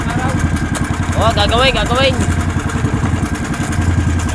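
A small boat engine that sounds like it is ailing chugs steadily with a rapid rhythmic putter, loud and close, while a voice speaks briefly over it.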